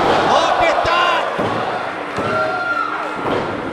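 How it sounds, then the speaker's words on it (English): A wrestler crashes onto the mat from a sunset powerbomb at a live HOG wrestling show, a couple of heavy thuds ringing out amid a noisy crowd while a commentator talks over the action. "Sunset powerbomb."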